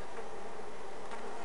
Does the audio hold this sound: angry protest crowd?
no